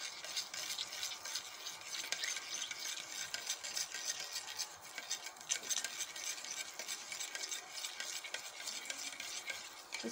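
Milk and beaten egg are stirred in a bowl, giving a soft, steady swishing and light scraping that runs close and continuous throughout.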